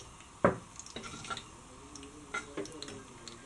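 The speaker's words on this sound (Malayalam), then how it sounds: "കടുക് പൊട്ടി വരുന്നുണ്ട്." Mustard seeds popping in hot oil for a Kerala fish pickle: a few sharp, scattered pops and crackles, one louder snap early on, then quieter irregular ticks over a faint background.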